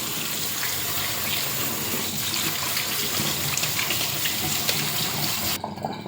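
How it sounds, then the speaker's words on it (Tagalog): Cooked spaghetti is rinsed under a running kitchen tap, a loud, steady gush of water that continues without a break and drops off sharply at the end. "i-rinse natin siya para matigil yung kanyang cooking process."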